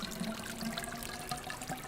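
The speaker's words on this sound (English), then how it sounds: "We got this water bamboo thingy here." A water-filled bamboo fountain in a Nancy Drew garden scene gives a steady, close trickle and splash of running water, continuous throughout with no voices.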